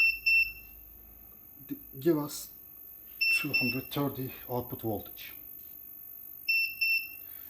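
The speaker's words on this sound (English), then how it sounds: "And alarm is active because our input voltage is not here. Because of that, this alarms and buzzer is working." A 10kVA uninterruptible power supply running on battery with no input voltage sounds its alarm buzzer in short bursts of high, piercing beeps about every three seconds, while someone talks between and over them.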